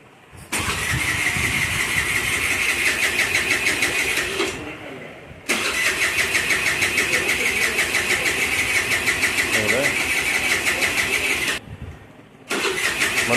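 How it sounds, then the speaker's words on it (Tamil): A motorbike with a recurring electrical fault is started. The engine catches and runs steadily for about four seconds, cuts out, then restarts and runs for about six seconds before stopping, and starts again at the end. "இப்போ பாருங்கள், வண்டி நான் ஸ்டார்ட் பண்ணுறேன்."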